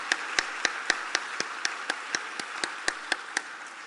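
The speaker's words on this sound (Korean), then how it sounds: "여러분 한 번 더 격려의 박수 부탁드리겠습니다" Church congregation at a Sunday morning service clapping in encouragement for the choir conductor: crisp, evenly spaced claps in a steady rhythm about four per second, moderately loud and clear, with no talking over them.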